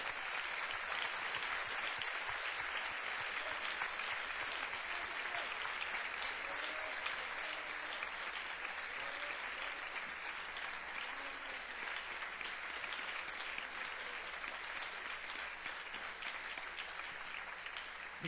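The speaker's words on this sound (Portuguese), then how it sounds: "Vamos aplaudir ao Senhor pela sua palavra" Church congregation claps together during a Sunday morning service, a sustained, even wash of many hands applauding at moderate volume from start to finish with no talking over it.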